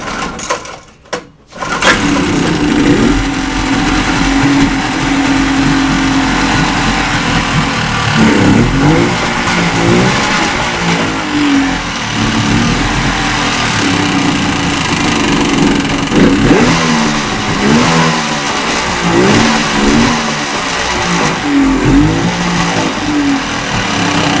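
A Yamaha engine being choked and started, catching after a brief stutter, then idling and revving in repeated rising bursts, loud and close throughout with no talk.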